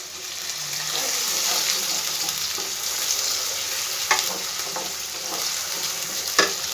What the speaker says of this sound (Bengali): একটু ভালো করে ভেজে নেবো এটা